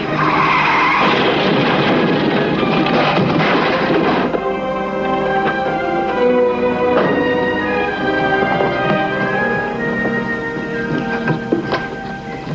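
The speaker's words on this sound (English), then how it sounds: "They're gonna crash!" A vehicle skids loudly for about four seconds in a TV drama car chase. It leads into a crash, and the din then settles into a lower, rumbling tail. No one speaks.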